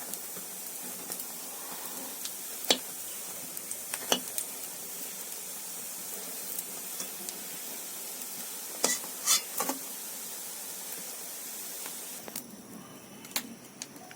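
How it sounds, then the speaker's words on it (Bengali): Lentil vadas for dahi vada deep-fry in hot oil with a soft, steady sizzling hiss, broken by a few sharp clinks of utensils against the pan. "এর মধ্যেই সমস্ত বড়াগুলোকে আরো একবার করে ভালো করে ভেজে নেওয়া হচ্ছে।"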